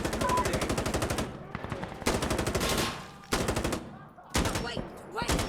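M249 machine gun fire in the game Insurgency Sandstorm comes in long, loud, rapid bursts separated by short pauses.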